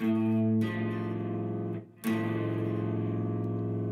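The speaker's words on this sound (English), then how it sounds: "Musicians call that a minor sixth." A sustained guitar minor sixth chord rings out loud with effects, briefly cut off near the middle, then restruck and held to the end.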